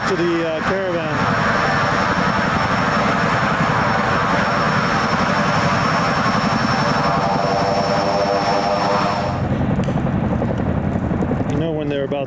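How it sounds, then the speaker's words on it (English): A Chinook helicopter's rotor blades turn before takeoff with a loud, steady, droning thrum that holds throughout and eases slightly near the end, heard close by on an airfield. "the sound of the blades change as they increase the pitch. It creates more of a thudding noise"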